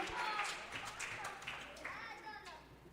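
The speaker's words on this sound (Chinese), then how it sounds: "小朋友再给他鼓掌哈" Children and adults at a Sunday church service clap in a lively burst of applause that slowly thins out, with voices mixed in the room.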